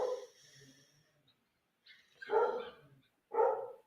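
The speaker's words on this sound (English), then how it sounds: "That's a dog." A dog barks briefly in the background of a football chat, two short bursts after a quieter stretch, fairly faint and distant.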